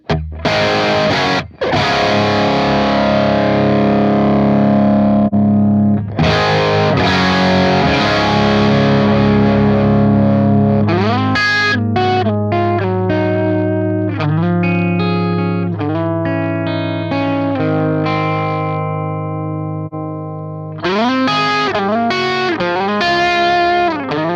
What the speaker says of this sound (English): We have a super bass up top.